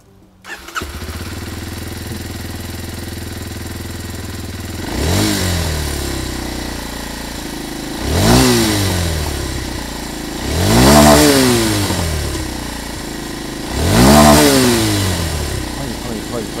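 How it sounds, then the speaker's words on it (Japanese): A Kawasaki KLX230S motorcycle's 232cc air-cooled single-cylinder engine starts and idles, then revs sharply four times, each rise in pitch falling back to a steady idle. "それではエンジンをチェックしたいと思います。"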